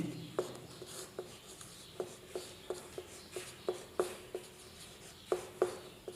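A pen writes a sentence by hand on paper in a quiet room, making soft, irregular scratchy strokes and taps that come in short repeated bursts, close and faint, with no voices.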